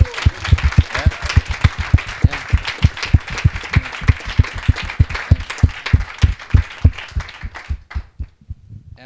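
Audience at a rail and Hyperloop panel discussion claps in a loud, fairly rhythmic unison beat of roughly thirty strong claps that fades out at the end.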